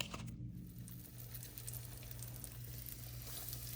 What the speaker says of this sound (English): I turn my skillet up to high and get the oil really hot, and then stick these in there